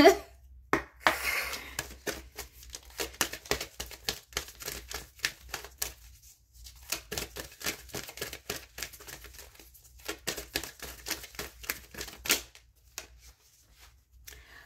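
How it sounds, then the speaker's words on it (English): Tarot cards being shuffled up close in repeated bursts of quick riffling and soft slaps, with short pauses between rounds and no talking. "let me go ahead and start shuffling"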